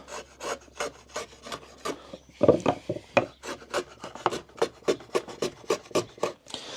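A chisel is sharpened on a sharpening stone with steady back-and-forth rasping strokes, roughly twenty of them in an even rhythm, close up with no talking.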